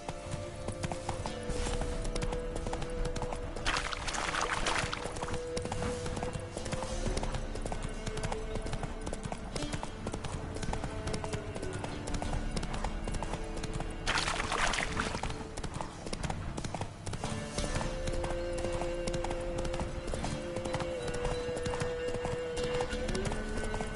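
Roach the horse in The Witcher 3 trots with a steady, rhythmic clip-clop of hooves on firm ground, continuous and moderately close, with a couple of louder swishes and brief game sounds, and someone speaks briefly.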